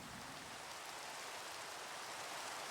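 Steady rain falls in the Minecraft video game, a soft, even hiss of drops that continues unbroken from start to finish with no voices over it.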